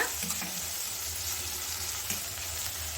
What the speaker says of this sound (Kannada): ಕಟ್ ಮಾಡಿ ಇಟ್ಕೊಂಡಿರೋ ಶುಂಠಿನೂ ಹಾಕ್ಕೊಂಡು ಚೆನ್ನಾಗಿ ನಾವು ಈರುಳ್ಳಿ ಜೊತೆ ಚೆನ್ನಾಗಿ ಬಾಡಿಸ್ಕೊಳ್ಳೋಣ